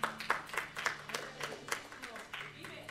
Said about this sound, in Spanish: Denle un aplauso fuerte a Él.